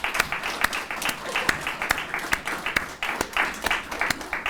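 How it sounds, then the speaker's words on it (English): Mid-level applause at a Holocaust survivor student internship ceremony, with distinct sharp individual claps punctuating a softer crowd clapping bed. "You're clapping for each other."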